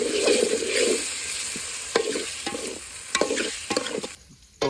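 Tomatoes, garlic and green chilies fry and sizzle in hot oil in a pan for Maggi noodles, with repeated sharp stirring scrapes of a spoon against the pan over a steady close sizzle.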